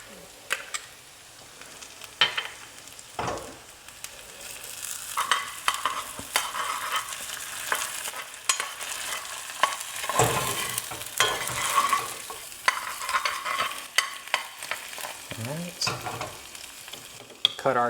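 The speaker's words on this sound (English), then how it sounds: "As we see this garlic start to brown, that lets us know that we're almost there." Garlic and hatch chilies fry in butter, giving a steady close sizzle broken by scraping stirs and the occasional clank of a utensil against the pan.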